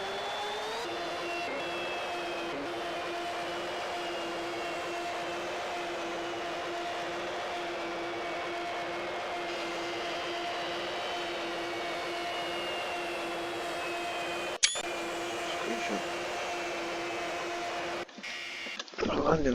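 Avro Vulcan bomber jet engines idle on the ground with the aircraft shut down, parking brakes set and canopy open: a steady, droning whine with sustained tonal hums, broken near the end by a brief click and some handling noise.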